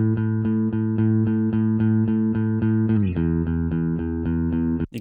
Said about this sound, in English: First, the plain bass guitar part.